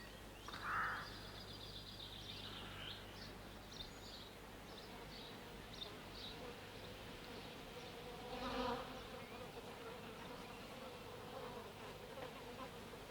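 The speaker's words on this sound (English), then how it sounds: "They must be very interesting creatures. Bees." Bees buzzing steadily at low level in a quiet outdoor setting, a soft continuous insect drone with a brief louder swell partway through, no talk.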